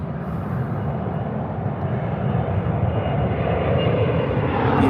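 A United Airlines Boeing 767 departs Heathrow, a dense, rumbling jet engine roar that holds steady and grows a little louder over a few seconds, with no voices over it.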